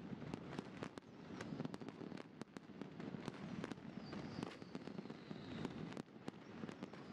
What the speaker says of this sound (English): a lot of fireworks, isn't it?